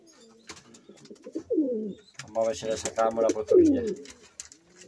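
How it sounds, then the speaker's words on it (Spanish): A pigeon coos in low, throaty rolling phrases, near and fairly loud, while someone speaks Spanish over and between the calls. "Mira la paloma."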